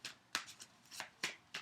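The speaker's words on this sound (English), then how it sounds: "Let's give it a shuffle." A deck of tarot cards is shuffled by hand in about six quick, soft papery bursts. The shuffling is quiet and close, with no talking.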